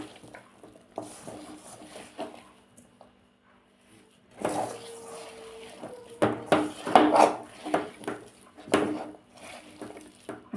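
Cassava masala is mixed and mashed in a pan, with a spoon or spatula knocking and scraping against the metal in irregular bursts. A quieter stretch comes before the busier mashing.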